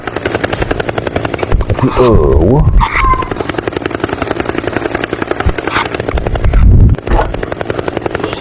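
A helicopter's rotor thumps in a steady rapid beat throughout, loud and close, while people talk over it.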